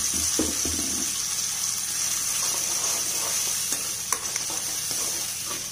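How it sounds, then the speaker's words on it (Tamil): Chow chow chutney with curry leaves bubbles and simmers in a pan, giving a steady, close sizzle with soft stirring clicks throughout and no talking. "இது நல்லா ஒரு 5 மினிட்ஸ் நல்லா கொதிக்கிட்டோம்"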